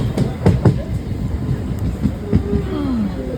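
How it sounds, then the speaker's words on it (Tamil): MEMU passenger train running with a steady rumbling roar, a few clacking wheel knocks and a faint rising squeal, heard from on board. "மெமோ ட்ரெயின் தான்,"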